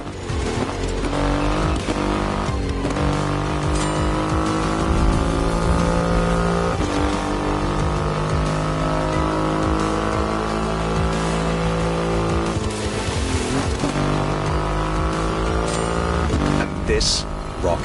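A Triumph Rocket 3 motorcycle with a 2.5-litre engine, a loud, sustained engine drone with rising and falling revs, heard under continuous talking.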